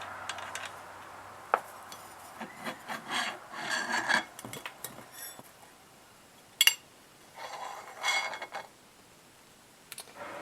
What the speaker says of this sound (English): take this bolt completely off and slide this whole pulley system off